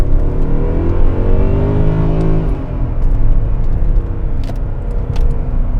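A 2008 Mercedes E63 AMG V8 with 100K miles revs up and settles, a loud, close, deep rumbling engine note rising in pitch then dropping back to a steady throaty idle, with no voices.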